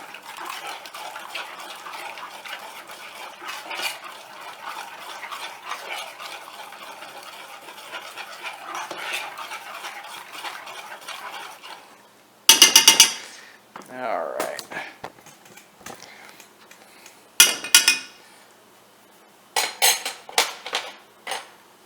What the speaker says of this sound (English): Mix it together to liquefy that Jello. Get the sugar to break down.